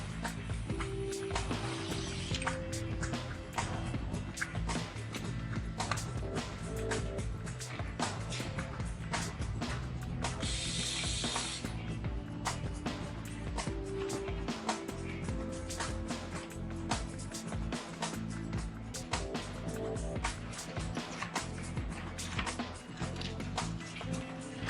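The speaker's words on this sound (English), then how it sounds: "a machine known in the industry as a depalletizer" Steady industrial din of a depalletizer machine in a Coca-Cola bottling factory, continuous rattling and clinking of bottles with quick irregular taps over a low mechanical hum throughout.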